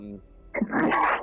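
A single sharp human sneeze, close and loud, following a brief moment of quiet talk.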